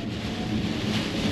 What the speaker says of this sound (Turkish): elektrikli araçla seyahat edince şu andaki yağmur sesi muhtemelen izleyicilerimize geliyordur